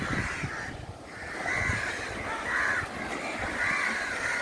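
Several crows caw repeatedly in bursts, moderately near, over faint outdoor background noise at Thirumullavaram Beach.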